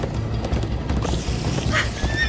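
Horses in the Minecraft Story Mode video game whinny and clop along at a gallop, a steady hoof rhythm running under a dense, loud game soundtrack, with a sharp neigh near the end.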